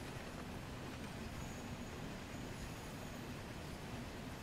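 A freight train rolls downhill in Train Sim World 2, giving a faint, steady low rumble with an even wash of rail noise and no distinct events.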